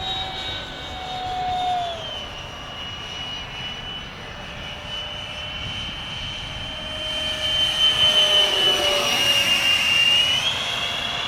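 An electric ducted fan model jet flies at full throttle, giving a steady, close, high-pitched whine that swells louder in the second half as it passes, with no talking.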